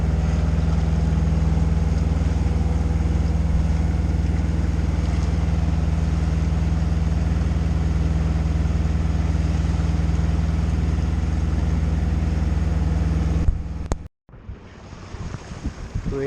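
A Nova 28 sailboat motoring under engine at 2,000 revs on a flat sea, a steady loud low engine drone with constant wash and wind noise, cutting off abruptly near the end.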